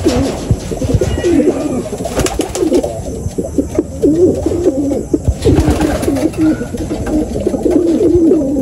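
Pigeons coo repeatedly in a loft, their soft rolling calls overlapping in a continuous, fairly close chorus with occasional wing flutters and small knocks.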